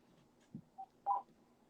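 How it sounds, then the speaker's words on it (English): A mobile phone rings with a few short, faint electronic tones in an otherwise quiet room, with no one talking. "My phone is ringing."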